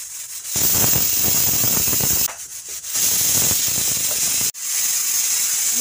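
Soaked mung beans boil in a pot with steady, loud hissing steam, broken by a few brief pauses, and no voices present.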